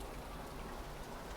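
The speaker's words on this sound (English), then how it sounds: "See the rain draping off my roof." Steady rain falls through the whole stretch as a constant broadband hiss of drops pattering on surfaces, with water running and dripping off a house roof, close and even in level with no voices.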